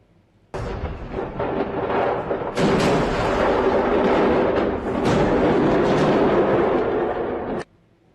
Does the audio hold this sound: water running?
no